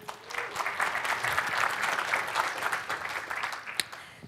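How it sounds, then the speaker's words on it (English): An audience at a Python programming conference talk claps together in a dense, steady round of applause that swells and eases over a few seconds, fairly close and without voices over it. "Let's have a round of applause for all those developers."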